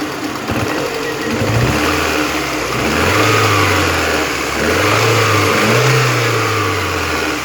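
A VAZ 2112 16-valve car engine runs steadily, loud and close, its drone rising and falling with revs while a knock taps through it, with no talk.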